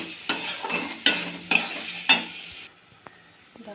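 A utensil stirs tomato, chilli and masala frying in a pan for a fish curry, with four or five distinct scraping strokes over a faint sizzle, then a couple of light taps.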